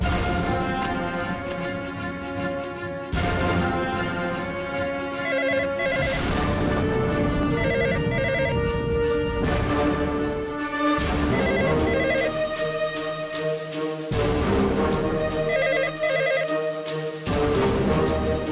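An unanswered landline telephone rings in repeated bursts, a bright electronic trill that plays over and over, with pauses and a soft musical backing.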